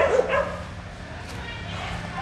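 Dogs in a large kennel give short yips and whimpering barks near the start, then fade under steady background noise and a low hum.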